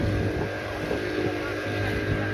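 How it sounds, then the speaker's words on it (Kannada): A banana boat passes on the sea off a Goa beach, heard as a steady motorboat engine drone with a low hum, mixed with wind noise across the microphone and no clear voices. "ಸೈಡು ಬನಾನಾ ಬೋಟ್ ಬರ್ತಾ ಇದೆ."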